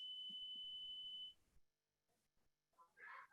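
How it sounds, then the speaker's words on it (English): A steady high electronic beep like a smoke alarm sounds for about a second, then stops, leaving quiet with faint background noise. "There's a beep like a smoke alarm."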